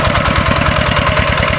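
A tractor engine runs close by with a steady, loud, rhythmic chugging throb and no break.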